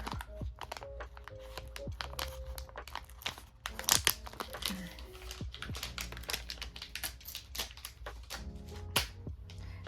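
Plastic packaging of a Mildliner marker Bold Collection set is cut open with scissors, with close, faint crinkling and crackling of plastic and sharp little snips and rattles in an uneven rhythm.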